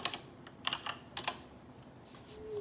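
Keystrokes on a computer keyboard as a web search is typed, in a few quick clusters of clicks with short pauses between them, at moderate volume and close by, with no talking.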